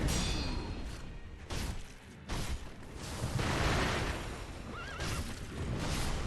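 Amid dense, noisy game rumble and clashing from Sekiro, a horse ridden by the Shinobi Owl boss whinnies in a wavering high cry, with thuds and impacts throughout.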